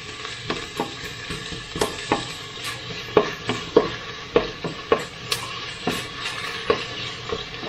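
Onion sizzles steadily in butter on a hot plate while a spoon stirs it, adding soft scrapes and clinks to a close, even frying hiss, with no one talking.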